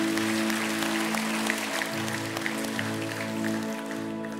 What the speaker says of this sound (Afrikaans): Volgende oomblik kan ons in die Here hande klap gee.